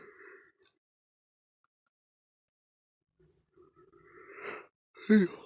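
A drawn-out, breathy yawn close to the listener, ending in a short voiced exhale after a stretch of near silence.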